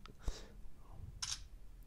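A smartphone camera shutter fires twice, each a short, crisp click about a second apart, faint against a quiet room.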